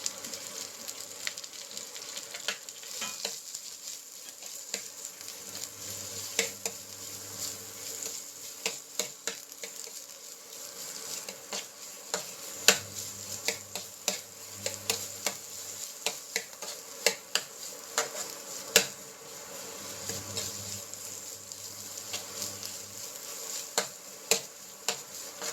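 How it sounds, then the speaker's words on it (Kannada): Mixed vegetables fry in a pan for vegetable masala avalakki, a soft steady sizzle with scattered clicks and scrapes of stirring, quiet and close, with no voices. "ನೀಟಾಗಿ ಎಲ್ಲ ವೆಜಿಟೇಬಲ್ಸ್ನ ಹಾಕಿ ಸ್ವಲ್ಪ ಡೀಪ್ ಫ್ರೈ ಮಾಡ್ಕೊಳ್ಳೋಣ."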